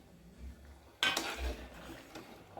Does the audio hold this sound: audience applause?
no